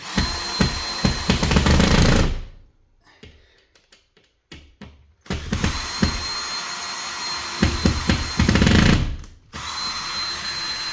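A power driver runs screws into the expanding mounting collar of a hydraulic lift pump on a steel pole. It gives two long, loud whirring bursts close by, separated by a quieter pause with small clicks.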